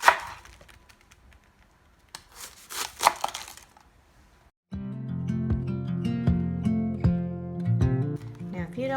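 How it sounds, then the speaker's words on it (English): Cabbage is cut for a homemade vegetable beef soup, a scattered series of knife chops on a cutting board in a kitchen. Music then takes over for the second half while faint chopping continues beneath it. "The next thing I'm going to chop up and put into my soup is some cabbage."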